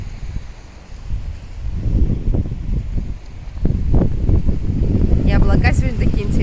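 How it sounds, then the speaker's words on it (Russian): Strong wind gusting through trees in Antalya, roaring as a steady close rumble buffeting the microphone, swelling in stronger gusts toward the end. "Сегодня дует сильный ветер. Гнутся деревья."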